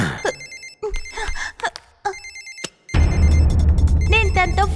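A telephone rings in repeated electronic bursts with short gaps, and a voice speaks between the rings near the end over a louder background.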